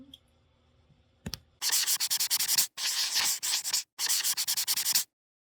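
Rough, rhythmic sanding strokes on a wooden dresser, loud and close, in several bursts with brief pauses between them after a quiet start and a single knock.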